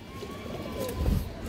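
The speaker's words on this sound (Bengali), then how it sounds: "এই দেখেন মাশাআল্লাহ গররা কবুতর" Garra pigeons cooing in a loft, soft low coos near and quiet over faint background noise.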